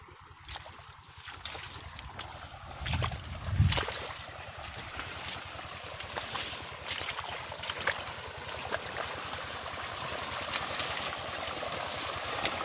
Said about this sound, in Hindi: ये देखो यहाँ पर पानी चल रहा है